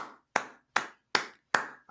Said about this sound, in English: I gotta applaud you, Tommy.